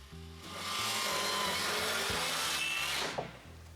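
A saw cuts off excess wood from the front wall of a cabin shelter, one sustained, rasping power cut lasting a few seconds, close and loud over soft background music, ending with a light knock.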